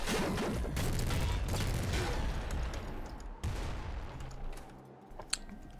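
Rapid continuous minigun fire in the video game Nuclear Throne, a dense rattling burst that runs for several seconds, then thins into scattered shots and small impacts.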